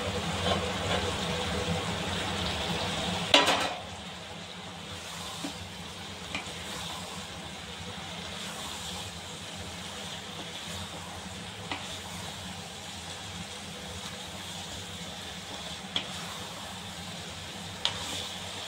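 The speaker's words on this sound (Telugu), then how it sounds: "ఇలా మనము ఉడికిచ్చి కట్ చేసి పెట్టుకున్న ఈ ఎగ్ ముక్కల్ని వేసుకోవాలి" Boiled, chopped egg pieces tossed into a pan for coriander egg rice: a thump as they go in, then a low steady sizzle with a few faint stirring scrapes, no talking.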